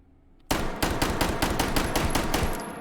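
A Dardick revolver fitted with a compensator fires a rapid string of about ten sharp, loud shots in the virtual-reality shooting game H3VR, evenly spaced with no talk.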